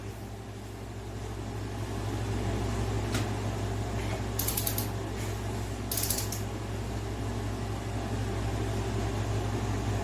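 A torque wrench set to 16 foot-pounds ratchets on the engine case bolts of a Honda CB750 chopper, giving a few short clicking bursts over a steady hum from the workshop.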